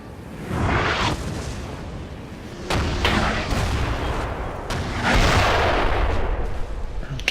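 Artillery fire in the Napoleon: Total War game: a run of deep booms and cannon blasts, with sharp reports near 1, 2.7, 3.2 and 5 seconds over a continuous rumbling din of battle, loud throughout.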